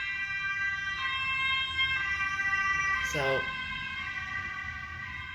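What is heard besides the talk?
ambulance siren passing outside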